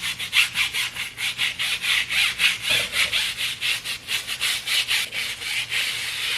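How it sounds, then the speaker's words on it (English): A brush scrubbing a tyre in quick back-and-forth strokes, about four per second, a loud close rhythmic bristle rasp with no talk. "wet down our brush, get a little more on there, go to scrubbing again"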